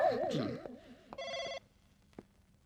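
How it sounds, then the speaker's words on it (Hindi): A telephone bell rings in a short electronic burst, then stops, with faint background sounds and a brief click afterward. "काजल का फोन है उसको?"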